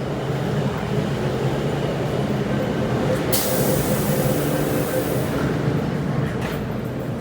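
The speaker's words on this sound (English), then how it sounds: "Wait for the train to leave." An MTR train pulls out of a Hong Kong station on the Sheung Shui to Tsuen Wan route, a loud, continuous rolling rumble with a brief hiss of air partway through.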